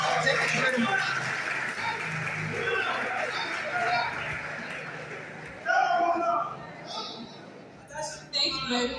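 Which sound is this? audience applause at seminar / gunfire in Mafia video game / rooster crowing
audience applause at seminar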